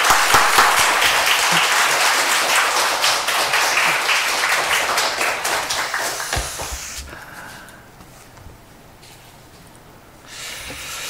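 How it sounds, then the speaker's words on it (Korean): A church congregation claps to welcome a missionary, loud dense applause with distinct claps that thins out and stops, leaving near quiet before a faint rise at the end. "박수로 한번 환영해 주시면 감사하겠습니다."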